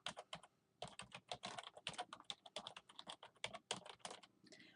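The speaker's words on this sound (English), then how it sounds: "So all we have to do is simply type in our website." Quick, steady keystrokes on a computer keyboard as a website URL is typed, a dense run of close, crisp clicks lasting several seconds, faint and with no voice.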